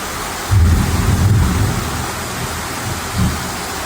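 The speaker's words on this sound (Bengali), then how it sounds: "আর খালি বৃষ্টিটা হচ্ছে দেখো, মানে আলাদা রকমের বৃষ্টি" Heavy rain pours steadily while low, rolling thunder rumbles nearby in two swells, the first longer and the second brief near the end.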